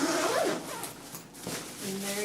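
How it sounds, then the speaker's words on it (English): Zipper being pulled closed on a stuffed, bulky Ju-Ju-Be diaper bag packed with toys and a small med kit, a few scratchy rasping pulls up close with short pauses between them. "I think it will still zip"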